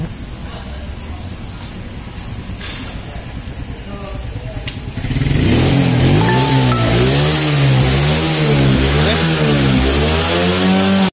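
A 2017 Suzuki GSX motorcycle under way, its mid-pitched engine starting quietly then surging loud about halfway through with rising and falling revs as it accelerates, close and continuous with wind noise, with some talk early on.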